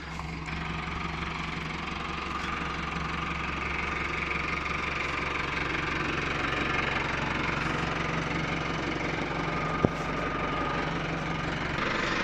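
Pöttinger Novacat 302 ED disc mower with conditioner, 3.04 m working width and seven discs, running on a tractor: a steady droning engine and mower hum with a faint rhythmic knock, constant and moderately loud, no talking.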